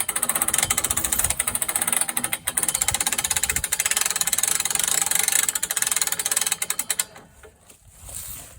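An ATV engine runs steadily and close while pulling a Strongway log skidder, giving a dense mechanical clatter that stays loud for most of the stretch before cutting off near the end.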